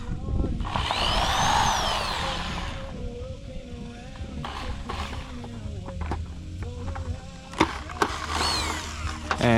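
Cordless drill whirring in short bursts while backing screws out of a portable Bissell Pro carpet shampooer, close by, with a person talking over parts of it.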